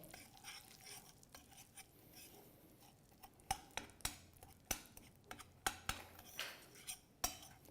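A spoon stirs a bananas Foster mixture of bananas and brown sugar in a pan, with quiet sizzling under a run of sharp, regular metallic clinks and scrapes that grow louder and more frequent over the last few seconds.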